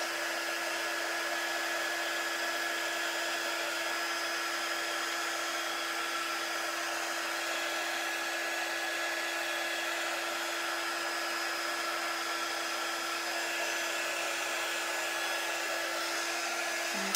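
A handheld heat or air dryer blows steadily over wet chalk paste on a craft surface, a loud, unbroken close-up whoosh with a faint whine that holds unchanged throughout, with no talking.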